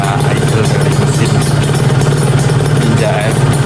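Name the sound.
Kawasaki Ninja R two-stroke motorcycle engine idling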